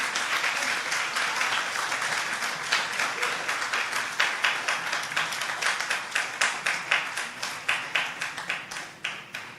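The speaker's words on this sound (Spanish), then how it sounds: "¿Cuánto le dan un aplauso al Señor por eso" A church congregation applauds at a sermon, with dense clapping that breaks into a rhythmic, unison beat toward the end, loud and close, with no speech over it.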